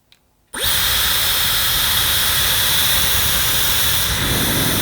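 A Dyson Airwrap on its lowest speed: a steady, loud blowing hiss with a low whir kicks in after a short silence and holds constant.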